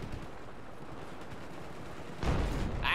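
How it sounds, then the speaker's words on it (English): Sustained rumbling gunfire and explosions from Battlefield 4, dense and continuous, with a louder burst of blasts near the end. "Explosions."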